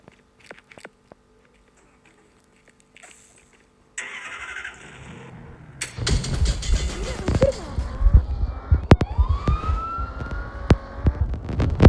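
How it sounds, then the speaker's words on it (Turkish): A police siren sounds in the Flex City video game, rising into a wail late in the clip amid car engine noise and sharp clanks after a quiet, sparse start. "Oha polis. Polis geldi lan."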